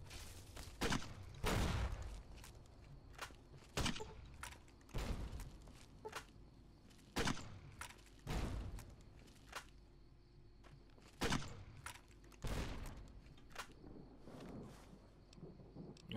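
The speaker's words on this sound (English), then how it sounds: "They are shooting each other." Gunfire in the Fallout New Vegas video game as characters shoot each other, a series of loud shots and bursts at irregular intervals with low rumbling between them.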